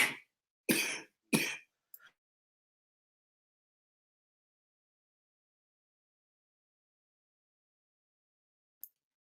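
Three harsh, loud coughs in quick succession, then a small throat sound, followed by long silence and one faint click near the end.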